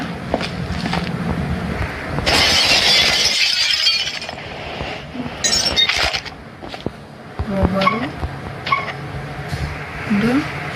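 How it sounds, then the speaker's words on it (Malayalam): A sharp burst of breaking glass with scattered debris, amid Granny 3 game sound effects and a voice talking over it. "ഒരു ഗ്ലാസ് പൊട്ടിച്ച് കയറി"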